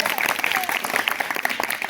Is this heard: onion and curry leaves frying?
no